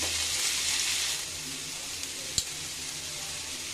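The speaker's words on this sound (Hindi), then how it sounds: "इस तरह से हमसे हाई फ्लेम से 2 से 3 मिनट के लिए पका लेंगे।" Spring roll vegetable filling frying over a high flame in a pan, a steady close hiss of sizzling with a brief clink partway through, heard alone.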